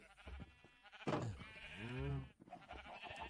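A sheep bleats in Minecraft, one wavering, pitched bleat rising clearly out of the game's background noise near the middle.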